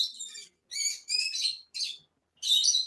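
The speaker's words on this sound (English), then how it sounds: "kookaburras up the back." Kookaburras calling outdoors in the bush behind a house, a series of loud, close, raucous chattering bursts separated by short silences, with no talk.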